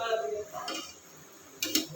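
Kheer gaja pastries frying in a pan being flipped over, with a couple of metal utensil clinks and scrapes against the pan over a faint sizzle, close by.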